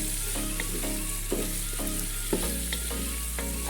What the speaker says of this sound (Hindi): हम इसमें 1 टेबल स्पून भर के ऐड करेंगे अदरक लहसुन का पेस्ट। और इसी भी हम अच्छी तरह से मिक्स कर लेंगे।